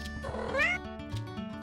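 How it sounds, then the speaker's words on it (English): A fat cat aboard a 57-foot Nordhavn motor yacht moored in Mexico gives a single rising, drawn-out meow over a low, steady onboard hum. "our perfectly unhelpful foreman, Gilligan the Fat Boat Cat"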